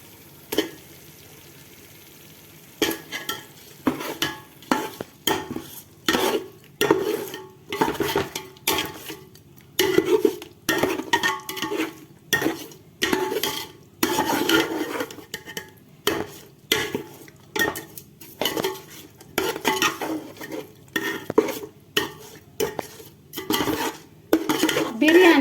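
Washed quail goes into a pot and is stirred for biryani, a run of irregular metallic scrapes and clanks of a spoon against the pot, close and fairly loud, starting after a quiet opening.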